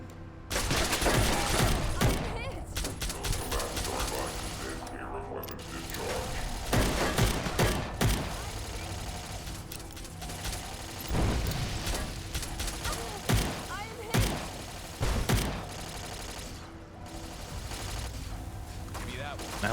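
Automated turrets fire bursts of gunfire in Fallout, a modded Fallout 4 setting, with dense rattling volleys and thumps repeating throughout against a busy game mix.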